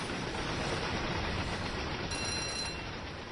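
Train running in the Train Sim World game on the Tees Valley line, a steady broadband rumble of wheels and motion throughout, with a faint tonal ringing like a crossing or cab bell near the end.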